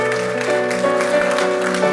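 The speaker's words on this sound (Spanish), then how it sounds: "Denle ese aplauso fuerte a Cristo, porque Él es bueno." Church congregation applauding loudly during a Spanish-language sermon, a dense, continuous clapping that fills the space for the full two seconds while a sustained musical tone plays underneath.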